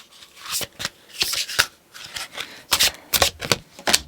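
Tarot cards being shuffled by hand, close and crisp, in quick irregular bursts of riffling and sliding snaps with brief pauses between.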